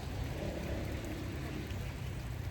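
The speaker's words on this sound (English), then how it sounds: "raining and snowing here in South Korea" Steady rain, mixed with snow, falls in South Korea as a dense, even hiss that runs unbroken throughout with no voices.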